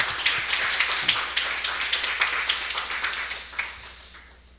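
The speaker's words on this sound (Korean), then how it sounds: "우리 온 성도 박수로 환영합시다." A church congregation claps together in a steady, rhythmic burst of applause that fades away toward the end, with no voices over it.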